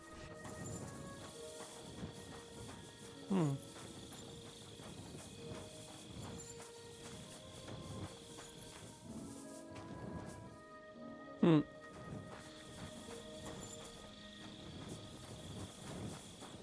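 A horse walking in Kingdom Come Deliverance 2 makes quiet, regular hoof clip-clops over a soft background bed of music and crickets, with two brief louder knocks.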